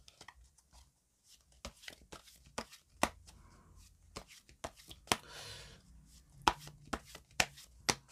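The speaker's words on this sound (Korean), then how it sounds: "추가 카드를 2장 뽑아보도록 할게요" Tarot cards shuffled and drawn by hand, a close run of quick sharp flicks and snaps with a brief riffle burst midway, fairly quiet and alone.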